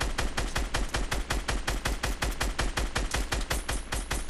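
Rapid, sustained automatic gunfire in Fortnite rattles in an even, fast stream of sharp shots for several seconds, loud and close with no pauses.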